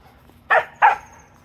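A dog playing tug of war on a back lawn gives two sharp, close barks in quick succession, then falls quiet.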